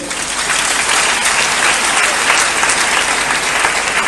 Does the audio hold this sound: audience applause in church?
yes